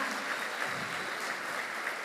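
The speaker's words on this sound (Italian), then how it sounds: "facciamo un applauso in questa cornice bellissima" Dense, sustained applause from a crowd fills the air evenly, moderately distant and steady without pauses.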